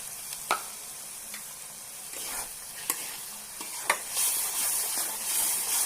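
Mashed potato is stirred into frying masala for a raw-banana kofta curry, giving a steady soft sizzle with scattered scraping clicks of the spoon and a brief louder burst of hiss near the end.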